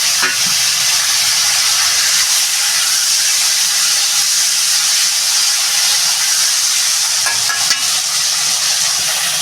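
Whole cumin seeds hit hot oil for a radish and tilapia fish curry, producing a loud, continuous, close hiss and sizzle that stays steady throughout, with a few faint clicks near the start and end.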